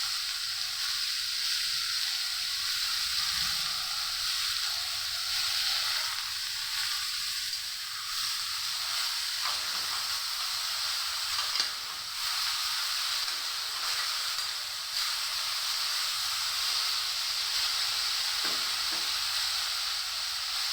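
Chopped tomato sizzles and hisses steadily in a hot frying pan with cabbage and fish head, a continuous close frying crackle with occasional stirring clatter and no talking.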